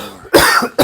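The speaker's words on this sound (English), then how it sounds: "But I just gag and gargle and gurgle and cough" A single close, loud cough with a harsh burst and a short second catch at the end, heard alone.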